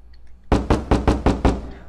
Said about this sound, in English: The door is closed, and where am I knocking?